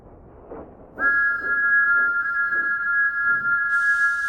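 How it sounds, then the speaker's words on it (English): In a quarry, a steam engine's whistle holds one long, loud, steady blast that rings out with echoes, and a burst of hissing joins near the end. "Thomas's whistle echoes."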